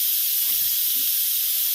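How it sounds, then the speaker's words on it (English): Steam hisses steadily from a pot of freshly cooked rice, a loud, continuous airy rush held close with no pause. "Gonna let the steam out of that."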